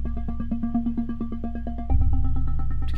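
A deep, monotone sub-bass synthesizer line in Reason Studios 12 pulses steadily alongside other synth tones, and a heavier low-end layer joins partway through, making it louder and fuller.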